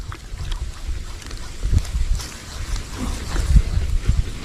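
Strong gusty wind buffets the microphone at sea during airgun fishing, low rumbling blasts swelling and easing in irregular pulses, with faint water and boat noise underneath and no talking.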